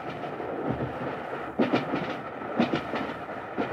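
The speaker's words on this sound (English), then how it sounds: "They're in a train." Steady rumbling of a moving train with rhythmic rattling and a couple of heavier clanks, fairly close and continuous.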